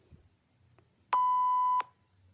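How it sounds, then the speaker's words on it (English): A single clean electronic beep, steady and moderately loud, lasting under a second in an otherwise quiet setting. "Give your answer after the beep."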